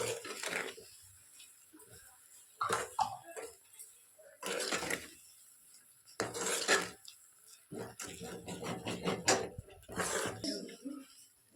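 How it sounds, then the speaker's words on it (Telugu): Semolina and half a cup of sugar being fried and stirred in a pan for ravva kesari, with repeated scraping and rasping strokes of a utensil against the metal and bursts of knocking, alongside talk. "సో ఇలా 1/2 కప్ షుగర్ వేసి దీన్ని మంచిగా ఫ్రై చేయాలి"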